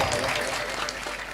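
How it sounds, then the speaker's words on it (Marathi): Applause from a kirtan audience for a girls' bhajan group, a steady dense patter of many hands clapping at moderate level, with some voices mixed in. "या भजनी मंडळासाठी एकदा जोरदार टाळ्या वाजवा."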